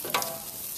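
Shrimp on a grill, glazed with Scotch bonnet and honey, sizzling steadily while being flipped, with a brief scrape or clatter near the start under a continuous hiss.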